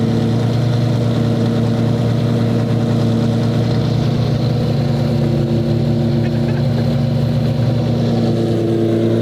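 A supercar engine idles loudly and steadily nearby, a deep rumbling drone with a constant low hum throughout.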